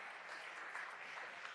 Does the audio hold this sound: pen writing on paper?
no